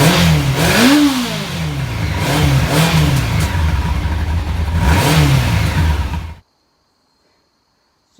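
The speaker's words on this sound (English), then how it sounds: "So let's just get a sound check of what this bike sounds like." A Honda Nighthawk 750 or Yamaha FZ1 motorcycle engine running close by, loud and rumbling with several rising revs before cutting off abruptly into silence.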